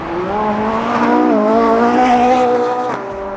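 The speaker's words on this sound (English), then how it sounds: "So that 458 is about to leave, and it has an exhaust on it, so I'm gonna get it leaving" Ferrari 458 with an aftermarket exhaust pulling away from a supercar meet, a loud, close engine note climbing through revs with a brief dip and shift before rising again, then tailing off.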